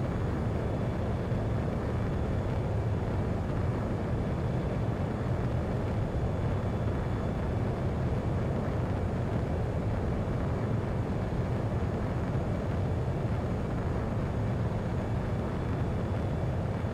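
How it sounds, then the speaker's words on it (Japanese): A jet fighter taking off in the video game Ace Combat 7, a steady, loud, broadband engine roar that holds evenly throughout with no breaks or talk. "スペア15の離陸を確認。"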